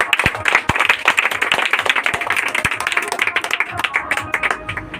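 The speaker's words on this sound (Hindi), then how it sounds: "इसके लिए जोरदार ताली है।" Loud applause at a school principal selection exam results announcement for the first-place winner, a crowd clapping steadily and rapidly with a few sharper individual claps standing out.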